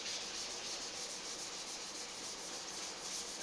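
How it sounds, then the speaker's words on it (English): A classical guitar body being converted to acoustic is wet sanded by hand with water-soaked 2500 grit sandpaper, a steady, continuous close rubbing hiss with a faint back-and-forth pulse and no voices. "So literally just soaked in water and then giving it a light sanding."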